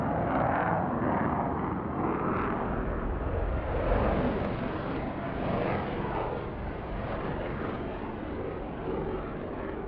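Aerobatic aircraft engines in a Roblox flight game give a steady, broadband droning roar that holds at an even level for the whole stretch, with no voices over it.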